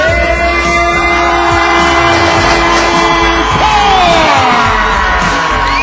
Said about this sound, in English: I tell you what, Dave, I never heard the crowd rumble like this when you came.